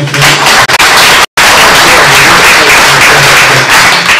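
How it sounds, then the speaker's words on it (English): Applause from a community gathering's audience, a dense steady patter of many hands across the whole stretch, broken once by a brief gap, loud and close. "Yeah, round of applause."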